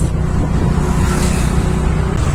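A car rolls along with a steady, loud engine drone and road rumble inside the cabin, its pitch shifting slightly as it picks up speed, with no talking.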